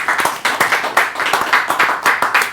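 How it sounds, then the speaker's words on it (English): An audience clapping along at a hip-hop podcast taping, sharp rhythmic claps landing in a quick even beat, fairly loud and close with no talk over them. "Clap it up."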